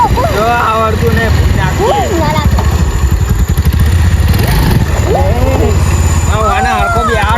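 An old scrap motorbike engine runs steadily with a low, continuous rumble, while people talk loudly over it the whole time.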